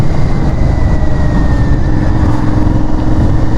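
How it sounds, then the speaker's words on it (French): An Aprilia Shiver 900 motorcycle on its stock exhaust, a loud, steady engine drone while riding, with wind rush over it and no voices. "Enfin il y a un beau son à l'échappement d'origine."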